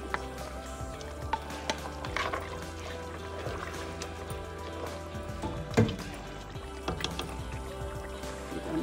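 Turnips added to softened tomatoes fry in a pan for a turnip mutton curry, giving a steady, faint sizzle broken by occasional stirring clinks and scrapes.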